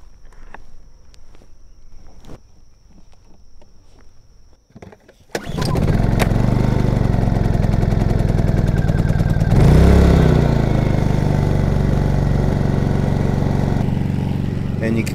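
A small portable backup power generator sits quietly at first against faint background sounds. Then it suddenly starts up and settles into a loud, steady running drone that continues to the end.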